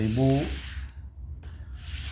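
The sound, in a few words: sanding a rusty machete blade with sandpaper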